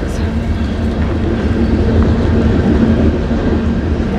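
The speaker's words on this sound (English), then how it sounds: "the train runs right there at the very edge of town" A train rumbles past at the edge of a small Missouri town, a continuous loud, rough roar with steady low-frequency rolling noise, heard outdoors from fairly close.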